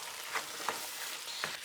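Vegan roast stuffing with lentils cooks gently in a pan over low heat, soft sizzling broken by a few scraping stirs.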